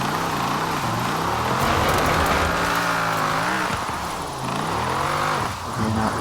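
A car drifting in Forza Horizon 4, its engine note rising and falling in sweeping swells as it holds a long slide, loud and steady throughout.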